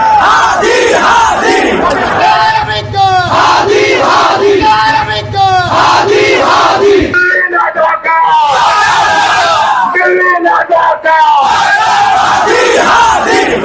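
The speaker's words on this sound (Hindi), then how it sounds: "हजारों लाखों की भीड़ प्रदर्शन कर रही है और यह प्रदर्शन उग्र हो गया।" A huge crowd of protesters in Bangladesh shouting together in loud rhythmic chants and yells, dense and continuous, with a single voice leading over the roar at times.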